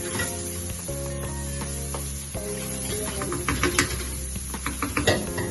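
Mushrooms frying in a hot pan with onion and garlic, giving a steady sizzle close by with occasional scraping and stirring clicks, no talking.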